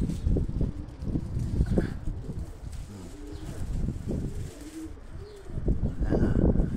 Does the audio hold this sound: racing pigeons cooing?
yes